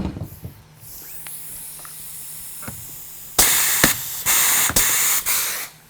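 A pneumatic pop rivet gun working on a Wilson shipping case: faint clicks and handling, then several loud bursts of compressed-air hiss in quick succession, each cut off sharply.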